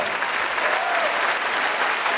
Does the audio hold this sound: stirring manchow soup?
no